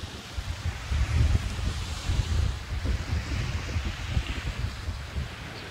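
Ocean waves washing onto a beach at sunrise, a steady low rumbling surf with soft rolling swells and some wind noise on the microphone, with no talking.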